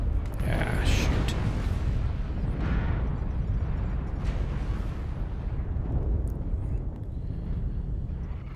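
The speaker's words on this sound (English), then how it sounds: "Airstrike online. Target spotted." Airstrike explosions roar and rumble in a mech combat game, a dense, continuous, low booming wash of blasts lasting several seconds, loud and close, with voices talking over it.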